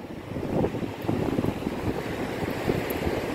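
Steady east wind blowing across an open sandy beach near the sea, buffeting the microphone with a loud, continuous rumbling roar and no voices.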